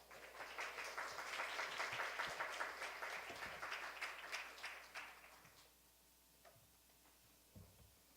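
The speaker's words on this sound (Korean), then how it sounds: "우리 다시 한번 박수로 우리 목사님 초청하겠습니다." A church congregation claps to welcome the pastor forward, a steady round of applause that rises, holds for about five seconds and then dies away into a quiet room.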